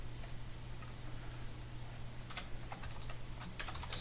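Keys clatter on a computer keyboard as an article is typed, quiet scattered taps that come in quick bursts toward the end over a low steady hum, no speech.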